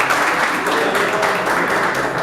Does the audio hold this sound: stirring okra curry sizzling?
no